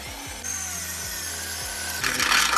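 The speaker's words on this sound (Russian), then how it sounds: "Сверлим первое отверстие, измеряем расстояние рулеткой, намечаем с другой стороны и также делаем отверстия." Cordless drill boring holes for mounting brackets while fitting strobe lights on a car, a steady close whine with a few short pitch-dropping bursts and a louder grinding push near the end.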